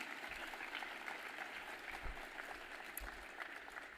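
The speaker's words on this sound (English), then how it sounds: "Yes, we could clap." Audience at the ASLO 2025 plenary applauds the Hutchinson Award winner, a steady wash of many hands clapping, somewhat distant and quiet, continuous for the whole stretch without speech.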